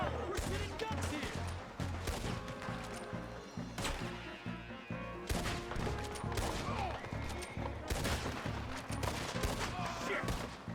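Gunfire in the video game Red Dead Redemption 2: dense, loud volleys of rapid shots and cracks in an intense firefight, with almost no pause, over a low rumbling game soundtrack.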